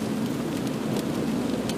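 Rain drums on a car climbing snowy Highway 12 from Packwood toward White Pass in Washington, a steady close patter over low road and engine rumble, with no voices.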